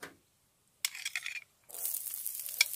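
Onions and bell pepper hit an oiled plancha with short bursts of sizzling and scraping, then settle into a continuous loud hiss of frying.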